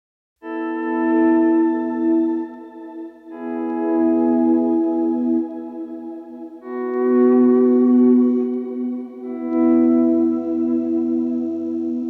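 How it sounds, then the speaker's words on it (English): Electric guitar chords from the song Way Maker ring out one after another, each sustained and washed in reverb and delay so they blur smoothly into one another, with no talking. "I'll turn on reverb and delay."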